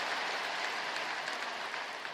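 A church congregation at a Sunday worship service applauds the choir, a steady, dense wash of clapping from a large crowd that holds evenly throughout, fairly soft and distant.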